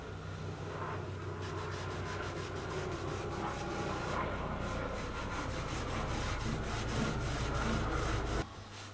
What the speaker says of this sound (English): after a couple of minutes I used wire wool to help remove the varnish